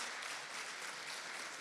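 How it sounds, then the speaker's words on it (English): A faint, steady patter of applause from an audience at an event, distant-sounding and even throughout its short length. "Let's give them a round of applause."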